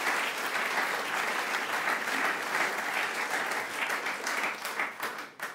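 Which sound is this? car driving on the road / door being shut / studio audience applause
studio audience applause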